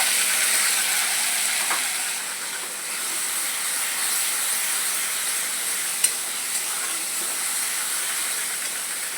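Masala hits fried onions in a hot pan and sizzles in a steady, close hiss, with a few faint clinks of a utensil and no talking.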